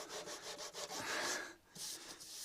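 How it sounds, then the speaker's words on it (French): Wood being sanded by hand with 120-grit sandpaper: steady back-and-forth rasping strokes in a quick rhythm, close and fairly loud, with a brief pause near the end before the rubbing resumes. "je suis en train de poncer au 120"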